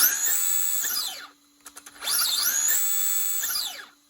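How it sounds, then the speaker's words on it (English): Brushless motor in a Traxxas Stampede RC truck, rear end lifted, spins up in two high-pitched whining bursts with a brief pause between them and a faint steady hum underneath. "Now we got some brushless power to the Traxxas Stampede."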